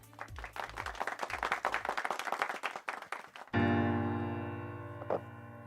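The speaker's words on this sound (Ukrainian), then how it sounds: "Ваші оплески." A singing-contest audience claps and applauds for a few seconds, then the applause gives way to a sustained musical chord as a young vocalist's performance begins.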